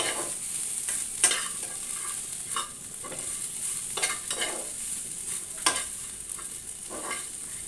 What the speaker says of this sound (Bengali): কলার খোসাগুলো এবার আর আমি ঢাকবো না এবার আর একটু ভেজে নিব